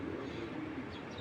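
Racing pigeon cooing close by, a low soft murmur carried over a steady background hum, continuous across the moment with no talk.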